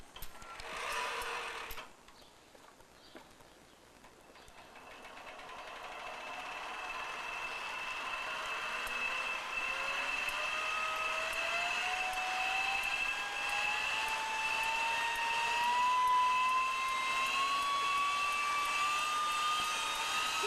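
Small jet engine being hand-cranked and started: a rising turbine whine climbs steadily in pitch over a continuous roar that builds after a brief burst of noise at the start, with no talking.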